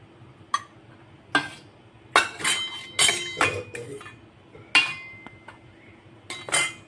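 A utensil clinks sharply against a bowl while egg yolks and sugar are beaten for an egg cake, in scattered separate strikes and scrapes, fairly close with quiet between.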